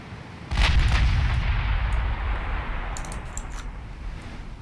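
Naval warship guns boom in the Ultimate Admiral Dreadnoughts battle game: one heavy, close blast rolls into a sustained low rumble, with a few sharper crackling reports following near the end.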